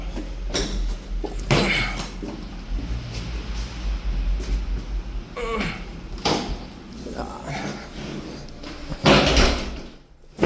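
A basement door in a Canadian home swings open and shut, with a few knocks and thuds of the panel over a low rumble, while people talk nearby.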